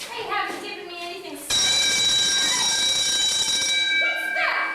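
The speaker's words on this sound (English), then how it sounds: "That's my private alarm. I'm a proud member of the volunteer firemen." A volunteer firemen's alarm bell suddenly starts ringing, a loud continuous metallic clang that fills several seconds and cuts in abruptly after quiet conversation, with voices heard before it.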